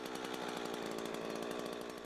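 A chainsaw saws steadily into a tree trunk during felling, leaving a hinge before a breaking bar is pushed in; the engine drones loud and close with an unbroken, buzzing cut throughout, and no voices.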